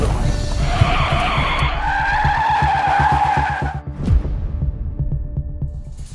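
A car's tires skid and squeal loudly for several seconds as it brakes hard to a sudden stop on the road, then a dull thump and steady engine rumble follow.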